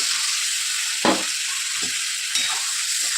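Loud, steady sizzling of chicken and spice paste frying in a hot pan, with a couple of brief stirring scrapes, close up and without talk.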